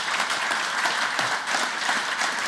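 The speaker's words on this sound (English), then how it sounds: "A big applause at the moment for Campbell." Steady applause from an audience at a tech talk, a dense wash of many hands clapping at even loudness throughout, with no voices over it.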